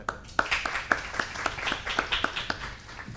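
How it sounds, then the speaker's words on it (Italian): Small audience clapping for an illustrator at an editorial illustration talk, a modest room of distinct individual hand claps, fairly close and irregular. "Adesso vi chiedo naturalmente di fare un applauso anche a lui"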